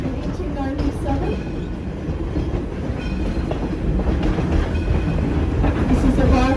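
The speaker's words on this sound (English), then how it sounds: "This is the Baldwin Locomotive." Baldwin steam locomotive No. 7, built in 1897 and coal-fired, runs on the Greenfield Village railroad with a continuous rumbling roll of wheels on track that swells slightly louder toward the end, with voices faintly audible underneath.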